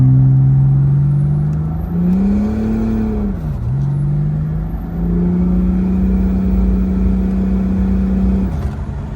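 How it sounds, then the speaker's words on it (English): Turbo diesel Mercedes S-Class with a transmission upgrade pulling gently in fourth gear, a loud steady engine drone that rises in pitch, dips briefly, then holds level as the car accelerates. "you just want to do a slight pull, fourth gear, nothing quick, like 60 miles an hour"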